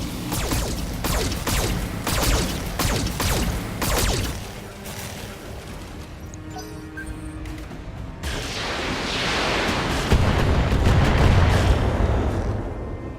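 Missile and weapon fire in the mech game Roguetech as reinforced LRM turrets open up: a rapid volley of sharp booming launches, a quieter mechanical lull, then a long loud rumbling barrage of impacts and explosions.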